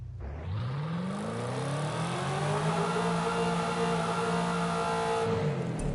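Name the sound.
supercharged car engine whine, compared to a Dodge Challenger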